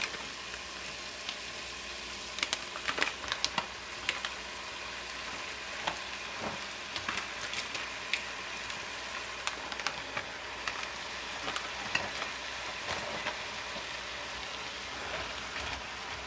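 Precooked, microwaved rice fries in a hot pan for pork fried rice, a soft continuous sizzle broken by sharp pops and crackles scattered through, with no talking.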